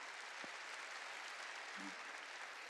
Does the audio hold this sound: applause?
yes